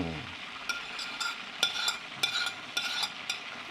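Chicken frying in a pan for honey chicken, with repeated sharp stirring scrapes and clinks over a steady low sizzle, close and moderately loud.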